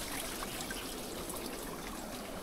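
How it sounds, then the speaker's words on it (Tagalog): Water streams steadily down rocks at a local waterfall, a continuous broad rushing and trickling wash heard close and unbroken, with no voices. "Dumadakus-dus pala yung tubig dito."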